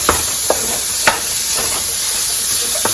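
Ground beef browns in a pan with a loud, steady hiss of frying, punctuated by a few brief clinks of a utensil, and no one speaking.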